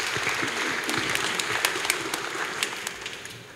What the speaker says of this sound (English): Let's clap for ourselves for the work we have done so far.